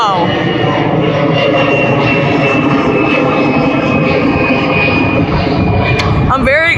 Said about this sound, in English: Oh, look at that roar and the growl of the beautiful